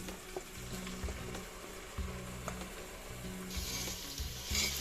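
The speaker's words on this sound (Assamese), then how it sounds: "এইখিনি হট কৰি লাৰি ভাজি লওঁ অলপ সময়" Vegetables seasoned with turmeric stir-fry in hot oil for a homemade vegetable biryani, a continuous close sizzle with occasional light stirring knocks, the frying swelling louder and brighter near the end, with no one speaking.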